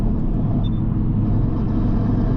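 A Toyota Supra running on E50 fuel pulls hard under a loud, steady, deep engine rumble and drone that stays dense from start to finish.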